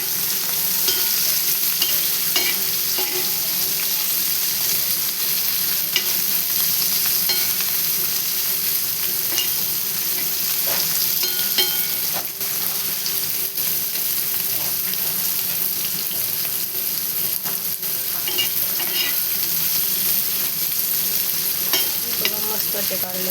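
Bitter gourd (karela) slices frying in a pan, a dense, loud and continuous sizzle with scattered stirring scrapes and pops, close up and without any voices.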